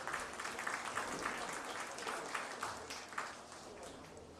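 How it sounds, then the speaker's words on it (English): Crowd applauding youth exhibitors at a county livestock show ring, a faint, steady wash of clapping heard from some distance with no voices over it. "let's give these kids another round of applause"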